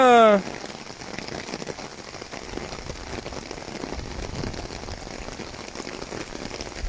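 Heavy rain pours steadily onto a surface, a dense continuous hiss after a brief louder sound at the start.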